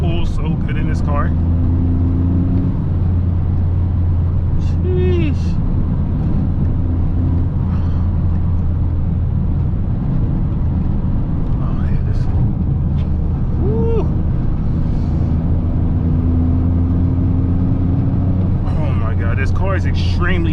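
A heavily modified Toyota GR Corolla drives at night, its turbocharged engine droning loud and steady throughout, with turbo spooling rising under the engine roar and the driver's voice briefly speaking over it.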